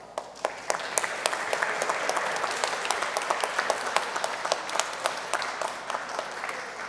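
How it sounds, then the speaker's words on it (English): Audience applause at a technology symposium, a dense steady crowd clapping for about seven seconds with sharp individual claps standing out on top, fairly close and loud, no talking. "Let's applaud."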